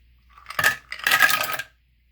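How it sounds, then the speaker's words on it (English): Ice cubes for a pineapple smoothie drop into a container in two quick clattering bursts, a short rattle followed by a longer tumbling clatter, close and clear with no talking. "Next, add 1 cup of ice cubes."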